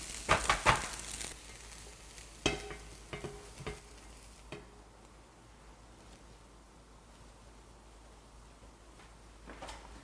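Seasoned vegetables and meat stir-fried in a pan for Korean gyuasang dumplings, a few scraping stirs early on, then a faint, steady sizzle under quiet background.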